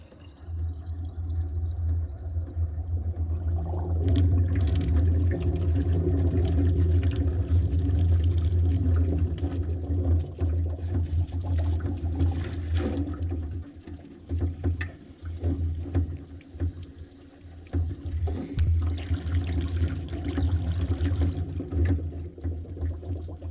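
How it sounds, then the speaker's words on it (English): Water pours steadily in a continuous gurgling stream for a long stretch into the radiator of a 1979 Chevrolet K10 truck with a 400 engine, with a few splashes and breaks near the end. "Put some water in here."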